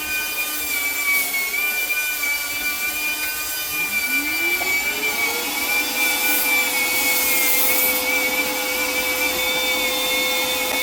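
A Parkside 20V cordless drywall sander (PWDSA 20-Li A1) runs steadily with a high whining motor tone and a rough sanding rub across the wall, its pitch rising partway through and then holding constant, close and continuous.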